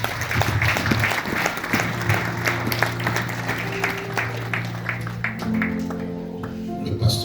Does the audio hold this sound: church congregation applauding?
yes